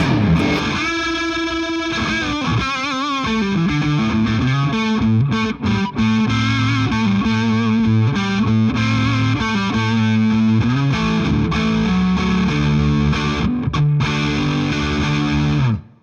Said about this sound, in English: at 15 watts, where I've got it right now, you can get some really, really rich tube saturation